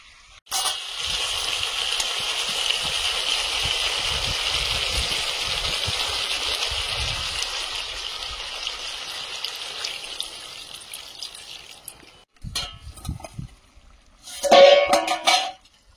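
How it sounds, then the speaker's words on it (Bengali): Water poured into a pan of curry whose spices have been fried until the oil separates, a steady, loud gushing that runs about eleven seconds and then cuts off, followed by a few brief clatters. "জল দিয়ে দেবো"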